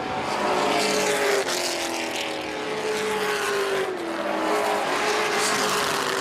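Racing trucks at a pavement short track at a fair, engines roaring loudly as they slide through the turns, with tire squeal and rising and falling engine pitch as they pass close by.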